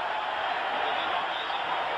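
Stadium crowd at a 1991 Miami Dolphins at New York Jets football game, a steady broad roar of cheering that holds at an even level for the full two seconds with no clear voices standing out.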